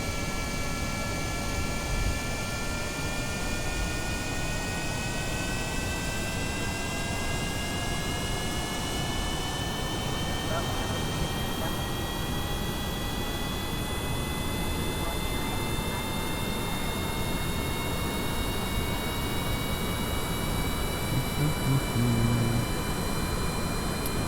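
Roar of simulated Boeing 747 jet engines on a takeoff run in Kerbal Space Program, a loud steady broadband rush with rising whine tones throughout.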